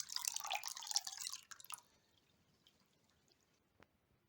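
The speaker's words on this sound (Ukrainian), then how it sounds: "Розвели фермент і вливаємо в молоко і гарно перемішуємо" Dissolved cheese enzyme is poured and stirred into milk, giving a brief close splashing trickle of liquid that fades after a second or two, followed by quiet with one faint tap.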